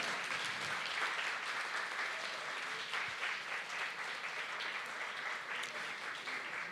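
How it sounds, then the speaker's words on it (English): An audience at the Film Prize 2024 awards ceremony applauds Amy, a dense, steady roar of many hands clapping at once, loud and sustained throughout with no voices over it. "Let's clap for Amy again because she's asked for the 30 seconds."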